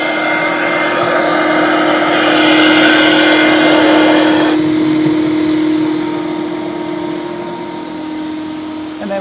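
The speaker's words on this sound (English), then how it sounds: "That's vacuum motor number 1, and we'll connect the silencer." Ashbys Enforcer vacuum motor runs steadily with its silencer attached, a close continuous whine and rush that softens partway through and then holds at a lower, muffled level.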